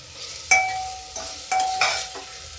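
Garlic, onion and green chili fry in a pan over raised heat, with a soft sizzle under a few distinct scrapes and stirring clatters of a spoon against the pan, close and fairly quiet.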